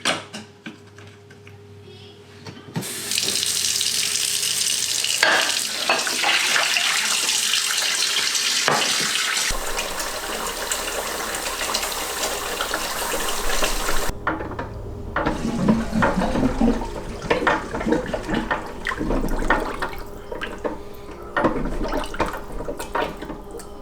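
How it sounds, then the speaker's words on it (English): Water runs steadily from a tap into a sink being filled to flush a clogged drain, a loud continuous splashing rush with faint clinks and gurgles, no talking. "now I'm just gonna run the sink and see what happens"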